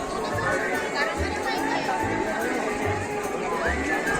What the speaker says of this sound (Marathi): इथे बघा लोकांची किती गर्दी झालेली आहे